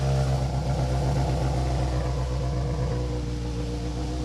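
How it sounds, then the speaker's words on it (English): A rally car's engine accelerates hard on a special stage at the Cadwell Stages Rally, a loud, steady rasping drone with a slight pitch shift partway through, heard alone without talk. "that car that you can hear, I'm delighted to say, is car number 2, Mark Kelly and Paul Morris"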